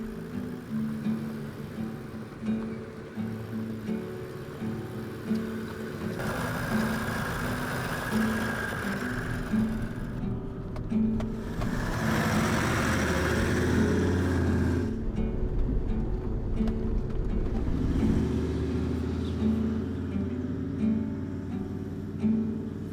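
Vehicle engine rumbles steadily while driving along a rocky riverbed in Ruby Gap Gorge in the West MacDonnell Ranges, with bursts of revving and louder surges as it works over technical terrain, no speech.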